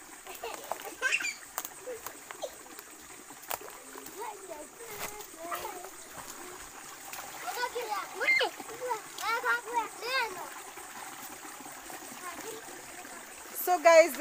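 Water splashes and patters in a river in an African village, in scattered bursts under people talking.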